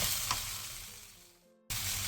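Potatoes stir-fry in a generous amount of oil in a pan over medium-low heat, giving a steady, close sizzle that fades slightly, drops out briefly, then returns at full strength.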